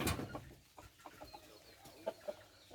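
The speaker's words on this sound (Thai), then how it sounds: "มีไก่อยู่นี่นามกุ๊กกุ๊กกุ๊กกุ๊ก" Chickens on a backyard home farm cluck in a scattered, uneven series of short calls, faint and somewhat distant, with no talking.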